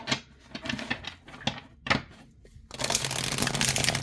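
Tarot cards are shuffled by hand close up, with a few soft riffling bursts followed by a longer continuous flutter of shuffling.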